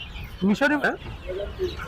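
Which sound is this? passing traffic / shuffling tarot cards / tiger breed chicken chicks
tiger breed chicken chicks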